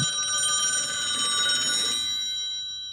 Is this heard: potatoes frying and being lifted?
no